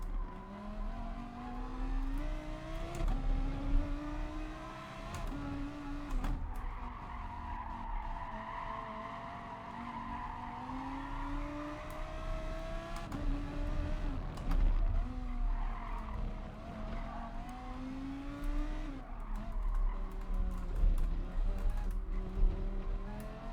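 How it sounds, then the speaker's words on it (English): Race car in GT Sport, engine wailing and shifting pitch continuously while tires skid and squeal, with no talk and steady loudness throughout. "Oh, 3rd place has spun."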